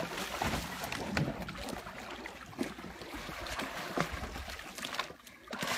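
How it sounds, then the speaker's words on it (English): A dog named Bruiser Bear splashes around in a backyard pool on a warm February day, with steady close-up water sloshing and splashing throughout and occasional sharper splashes. "So I figured it's time for the Bruiser Bear to have a swim in his pool."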